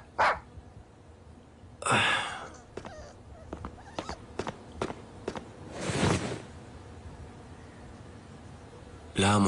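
A dog barking, several sharp barks in separate bursts with quieter clicks and movement between them, heard close alongside a speaking voice.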